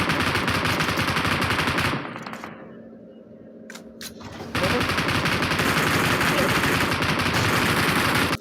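Rapid automatic gunfire in PUBG Mobile roars in dense, continuous bursts, drops out for a couple of seconds apart from a few brief shots, then resumes just as loud and sustained.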